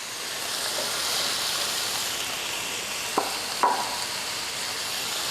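Mushrooms, carrots and other vegetables sizzle steadily in a hot pan, a continuous bright frying hiss with a couple of brief stirring clicks near the end, close and fairly loud with no voices.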